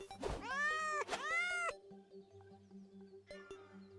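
Two clear, drawn-out cat meows come from the Meow Sword weapon in the Power World video game, followed by a shorter faint mew over a quiet hum.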